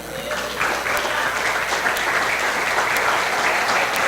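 A church congregation claps together in steady, sustained applause that fills the room, continuous and moderately loud from start to finish.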